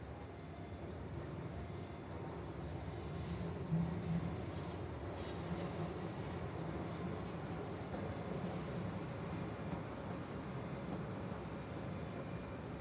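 Ishiyama Sakamoto Line train beside Lake Biwa rumbles past at a distance, a steady low rolling drone with no voices, holding even throughout.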